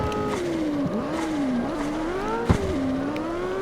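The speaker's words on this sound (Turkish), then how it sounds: "McLaren 720S normalde bu araç." A McLaren 720S engine in the street racing game CarX Street drones steadily, its pitch wavering as the car shifts and accelerates, with a sharp clunk midway and faint tire noise.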